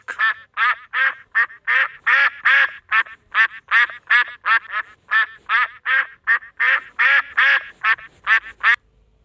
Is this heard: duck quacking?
yes